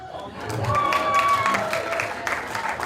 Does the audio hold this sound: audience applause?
yes